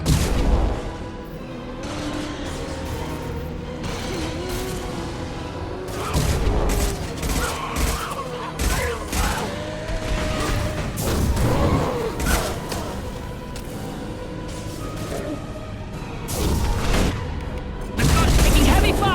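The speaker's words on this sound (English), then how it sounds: "The gun's taking heavy fire." Sci-fi combat in Mass Effect 2 on Xbox 360, with dense rumbling gunfire and booming explosions running throughout, swelling into louder bursts near the start, middle and end, with mechanical clatter mixed in.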